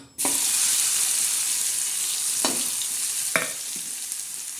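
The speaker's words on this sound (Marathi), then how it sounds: "आता आपण त्याच्यात ही चटणी टाकणार आहोत तळायला" Green chilli and garlic chutney with mashed bombil fish dropped into hot oil, setting off a loud, steady sizzle right up close. A few sharp scraping stirs cut through the continuous frying hiss.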